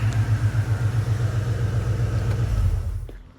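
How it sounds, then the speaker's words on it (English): A 1983 Fox body Mustang with about 22,000 original miles idles steadily nearby, a loud, even low rumble with a regular lope that fades out at the end. "It's just sitting there idling, happy."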